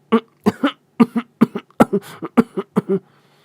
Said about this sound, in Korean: 가슴을 움켜잡고 발작적으로 기침을 하는 겁니다